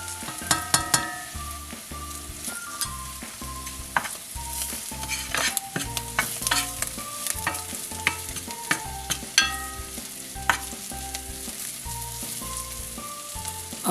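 Garlic, onion and curry powder sizzle steadily in a hot pan while a utensil stirs and scrapes in a repeating rhythm, with sharp clinks against the metal, close and clear with no talking.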